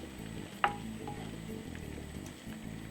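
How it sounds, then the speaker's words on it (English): Meatballs cook in sauce with a low, steady sizzle and bubble. One sharp clink sounds near the start, and no one speaks. "just allow it for it to just cook in this sauce for a nice good 6 minutes"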